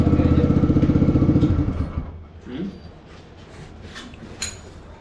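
A TVS Raider 125cc motorcycle with an aftermarket Akrapovic full exhaust rumbles loudly with a fast pulsing exhaust for about two seconds, then fades as people talk nearby.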